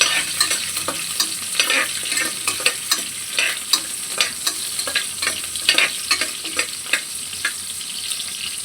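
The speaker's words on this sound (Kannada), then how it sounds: "ಫಸ್ಟು ಚಿಲ್ಲಿ ರೋಸ್ಟ್ ಆಗಬೇಕು ಎಣ್ಣೆಯಲ್ಲಿ." Chillies and spices fry in hot oil for biryani, a constant close sizzle broken by regular scraping stirs of a spoon against the pan, with no voices.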